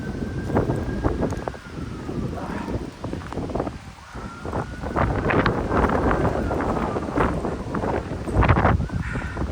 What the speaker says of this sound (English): And the wind has quite picked up a bit.